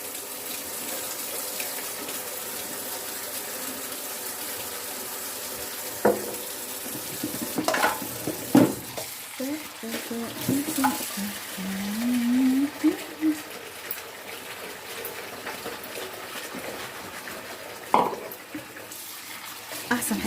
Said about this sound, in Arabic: افتحي الميه السخنه، تبقى ميه مش سخنه قوي يعني عشان ايديكي برضه.